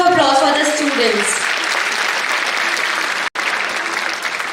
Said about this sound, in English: Please give a huge round of applause for the students.